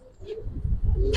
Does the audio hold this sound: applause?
no